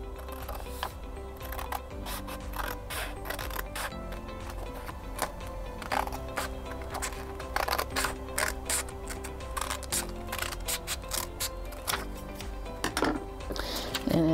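Scissors cut a paper square down the middle for a paper windmill craft, giving a run of crisp snipping and crackling strokes over a steady background hum, with no voices.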